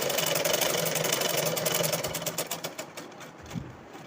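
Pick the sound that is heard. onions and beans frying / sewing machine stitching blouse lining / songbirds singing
sewing machine stitching blouse lining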